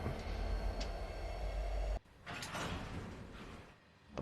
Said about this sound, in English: they have the sound of slack